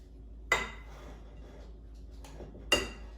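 Cooked potatoes being smashed with a potato smasher, two sharp, close clanks of the utensil against the bowl about two seconds apart over a quiet background with a faint scrape between them.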